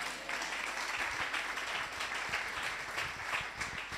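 A church congregation applauding during a sermon, steady dense clapping from many hands throughout, moderately distant with room reverberation.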